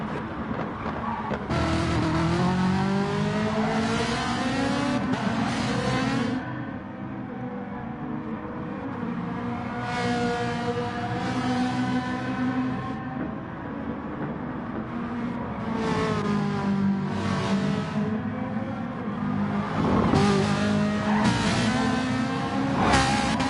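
Group B race cars in Gran Turismo Sport scream around the Nürburgring GP circuit, with engines revving up and down through gear changes in overlapping, continuous waves and occasional faint tire squeal.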